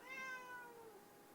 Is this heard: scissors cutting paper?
no